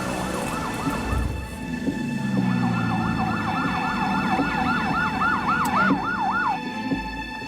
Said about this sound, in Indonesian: Pastinya ambulans.